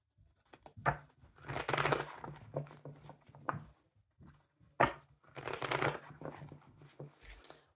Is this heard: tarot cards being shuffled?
yes